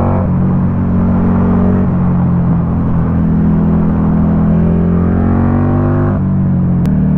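A Buell XB9S motorcycle engine hums steadily while leaning through a curve, a loud, close, continuous low drone with a brief dip in pitch near the end and no talking.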